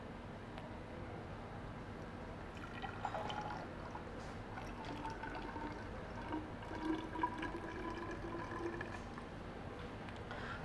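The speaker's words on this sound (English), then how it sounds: "Now I will be pouring the solution out here." Phosphate buffer solution pours steadily from a beaker into a measuring cylinder, a continuous soft trickling and splashing that lasts throughout.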